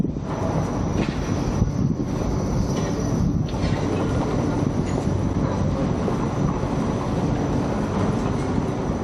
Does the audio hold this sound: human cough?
no